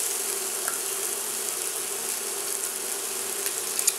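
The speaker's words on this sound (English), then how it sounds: "our onions are almost dry here. So I'm now going to add some olive oil." Onions sizzle and fry in a pan with olive oil for a Greek spinach and rice dish, a steady crackling hiss with small pops throughout; no voices.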